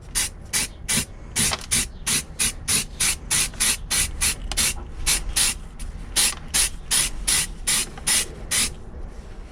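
Rattling spray can applying glossy black paint to a Rover P4 suspension part, in repeated short hissing bursts with brief gaps, close and fairly loud.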